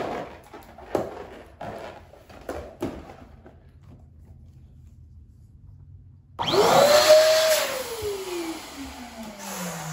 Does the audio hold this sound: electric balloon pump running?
yes